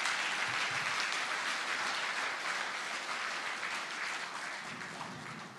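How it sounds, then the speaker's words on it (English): An audience applauds steadily, a dense wash of clapping that holds for several seconds and fades slightly toward the end. "I think he deserves some clap here."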